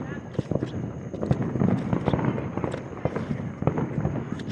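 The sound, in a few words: Fourth of July fireworks exploding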